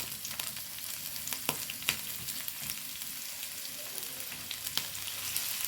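Green chilli and ginger fry in hot oil for an egg fry, making a soft, continuous sizzle with scattered sharp pops and crackles and no talking.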